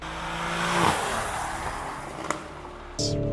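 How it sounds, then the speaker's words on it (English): A Lamborghini Urus pulls away under launch control with a loud rushing roar and tire noise, rising engine tones that break at gear shifts, and a sharp click partway through, heard from close by. "Launch control activated."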